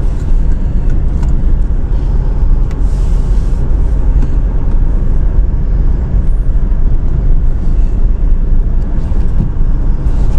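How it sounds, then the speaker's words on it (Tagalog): Steady, loud low engine rumble and road drone inside a vehicle stuck in traffic on the road to Tanay, Rizal, continuous with no talking. "So, na-stuck na kami sa traffic."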